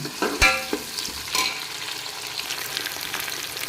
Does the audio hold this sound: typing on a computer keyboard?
no